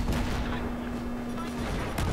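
Gunfire and explosions from Battlefield 3 multiplayer combat make a dense, continuous, rumbling roar that fills the short stretch.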